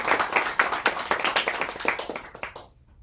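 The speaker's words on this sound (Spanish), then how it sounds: "Los damos un fuerte aplauso para iniciar esta conversación." Audience applause at a book presentation, a dense burst of many hands clapping that fades out near the end, with no voices over it.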